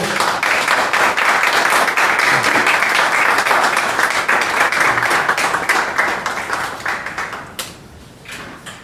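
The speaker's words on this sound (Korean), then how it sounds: "여러분 큰 박수로 맞이해 주십시오" A church audience claps loudly for a pastor arriving at a press event for a Korean church joint worship service and prayer rally, steady dense applause that fades away over the last seconds.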